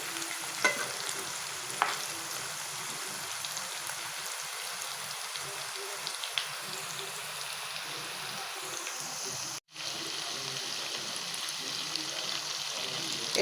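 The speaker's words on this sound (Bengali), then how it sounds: "তো এই তো আলুটাও দিয়ে দিছি একসাথে ভাজার জন্য।" Potatoes frying in an oil-filled pan, a soft continuous sizzle with occasional stirring clicks, steady and close, briefly cut near the end before resuming.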